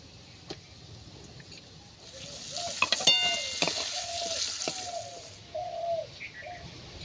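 Potato and carrot pieces frying in a pan give a soft, steady sizzle that builds after the first couple of seconds, while birds coo and chirp nearby throughout.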